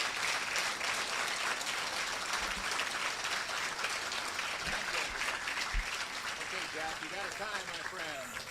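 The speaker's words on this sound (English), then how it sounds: "Give them a nice round of applause." Audience at a student auction applauding veterans with sustained, even clapping throughout, heard at moderate distance with a few voices rising near the end.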